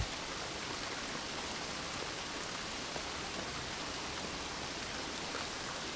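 Steady rain falls on a lush forest floor, a dense, even hiss of countless drops with no breaks or distinct hits, soft and continuous throughout, with no voices.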